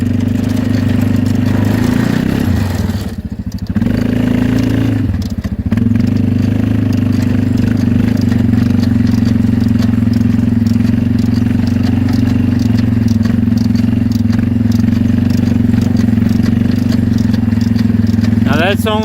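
A Conestoga C-25 ground-driven manure spreader towed along at a slow 3 to 4 mph, heard as a loud, steady engine drone with faint clatter, close and continuous throughout.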